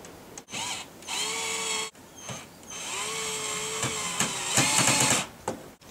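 Power drill driving 5 cm screws into timber parts of a chicken coop, several whining bursts that rise and fall in pitch as each screw bites, close and loud with short gaps between runs.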